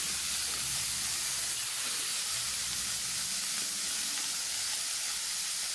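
Canned mushrooms frying in leftover pork fat give a steady, loud hiss that holds evenly the whole time, with no talking.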